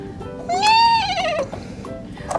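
A single horse whinny from a children's animal-sounds farm barn scene, a rising then falling pitched call lasting about a second, clear and close over a quiet background; it could be a voice imitating the animal.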